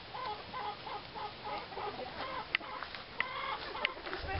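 A rooster clucks repeatedly as people chase it down, its short, agitated calls coming in quick bursts close by with a few sharp louder squawks.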